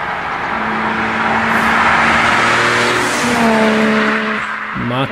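A modified car engine revs hard and loud, its intake roaring and pitch climbing and falling across several sweeps, with the flutter of an external wastegate near the end.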